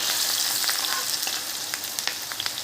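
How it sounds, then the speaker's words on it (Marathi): Cumin, green chili and onion fry in hot oil for a bread-based onion chivda, with a steady hissing sizzle close by and scattered light clicks from stirring. "आणि कढीपत्ता आता हे थोडंसं परतून घेऊया"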